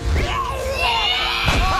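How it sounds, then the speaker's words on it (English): A monster in the Monsters University video game lets out a very loud, brief scream, harsh and close, lasting under two seconds. "You'll know it worked if you hear a super loud scream."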